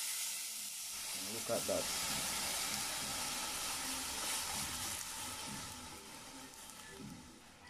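Coconut milk poured into a hot, burnt curry sends up a steady, loud hiss of steam and sizzle that runs throughout, with a brief spoken remark over it.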